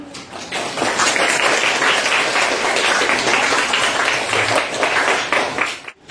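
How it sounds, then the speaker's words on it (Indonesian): A classroom of junior high students at an Islamic school breaks into steady, dense applause that swells in quickly and holds at full volume for several seconds before tapering off abruptly at the end. "Beri aplaus."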